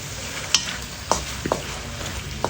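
Onions being stirred in a pan while cooking a beef dish, a soft steady sizzle broken by four or five distinct scraping clinks of a utensil against the pan, close by and without talk.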